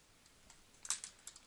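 A computer keyboard is typed on in a short, faint burst of a few light clicks close by in a quiet room.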